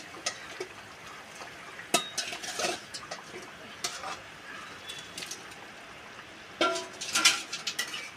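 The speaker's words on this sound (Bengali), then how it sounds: "মাছগুলো দিয়ে এখন একটু নেড়ে নেব" Fried fish being stirred into a pot of curry with potatoes, a spoon scraping and knocking against the metal pot in irregular, fairly faint bursts, with a louder clatter near the end.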